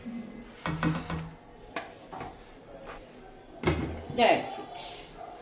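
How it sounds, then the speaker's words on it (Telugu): A lid clatters onto a pot of fish pulusu (fish curry) with a few short knocks and a sharper clank near the end, while someone talks nearby. "ఇక అంతే మూత పెట్టేద్దాం"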